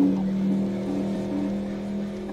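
Engine of a car accelerating in the Crash Wheels racing video game, a steady synthetic motor drone with a constant pitch that holds throughout at moderate loudness, alone without talk.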